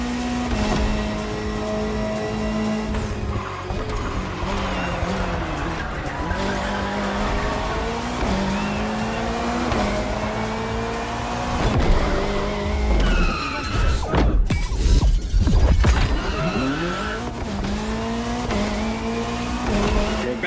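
Race cars in a touring race in The Crew Motorfest scream past in a dense, loud engine roar, with rising and falling revs, gear changes and bursts of tyre squeal and skidding throughout.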